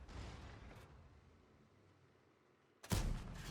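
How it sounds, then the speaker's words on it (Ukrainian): A faint rumbling background in World of Tanks is broken near the end by a sudden sharp Leopard 1 tank cannon blast that booms loudly and then rumbles away. "ось такий постріл залетів"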